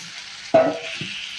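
Cauliflower pieces dropped into a pan of softened tomato pieces for a tomato cauliflower curry, giving a sudden sizzle on contact, then a brief stir and a scrape a moment later over low background hiss.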